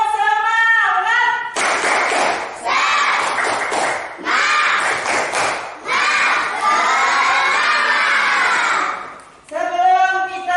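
Schoolchildren in a fifth-grade floor gymnastics PE lesson do tepuk semangat, loud rhythmic group clapping mixed with energetic shouted chanting in bursts, close and crowded, with a teacher's voice at the edges.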